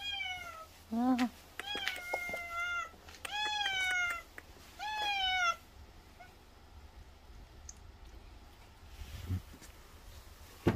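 An old, sickly stray cat gives several loud, drawn-out meows and strained cries in separate bursts while eating a Churu treat, followed by quieter rustling and faint sounds.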